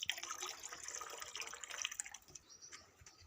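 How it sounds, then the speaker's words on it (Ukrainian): Water poured for backyard chickens trickles and splashes in an uneven stream, close and fairly quiet, tapering off toward the end with no voices. "Він їм водичку наливає"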